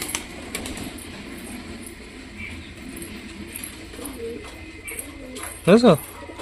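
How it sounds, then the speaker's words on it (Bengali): Pigeons coo softly over a low background murmur, then one gives a louder, closer call near the end. "এখানে কুটুর কুটুর করছে ওদিকেও চলে গেছে প্রচুর পায়রা"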